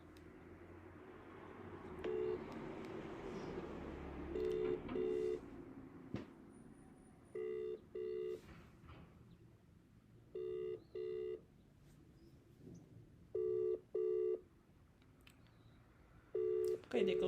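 A telephone call rings out unanswered, with paired ringback tones repeating at regular intervals in the earpiece, heard close and moderately loud under faint background murmur.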